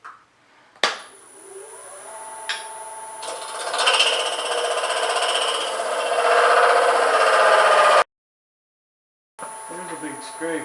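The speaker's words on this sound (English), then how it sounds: "There's a big scraper. That's not afraid to cut it." A big scraper cuts wood on a lathe while a bike-frame shim for the forks is turned, giving a sharp knock followed by a rising, grinding rasp that swells and then cuts off abruptly.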